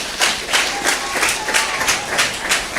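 A congregation at a Sunday church service claps together in a steady, fast rhythm, each clap crisp and evenly spaced, filling the room without any talking over it.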